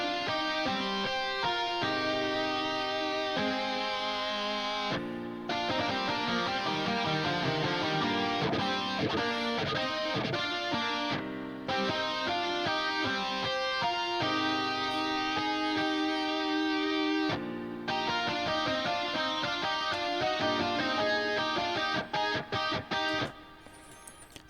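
Layered rock guitars with a lead line and added piano play together in a dense, continuous song mix, loud and steady throughout with a few brief breaks in the arrangement.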